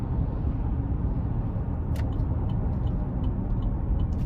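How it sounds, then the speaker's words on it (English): A 2018 Chevrolet Traverse LT AWD with a 3.6 engine and 9-speed automatic driving on the road, heard as a steady, dense road and engine rumble with tire noise, constant and unbroken throughout. "we're going to take this 2018 Traverse LT Cloth out on the road for a quick test drive"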